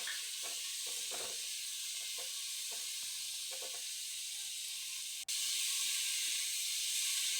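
Potatoes fry in a pan with turmeric and salt, giving a continuous bright sizzling hiss with faint stirring taps and one sharp click near the end.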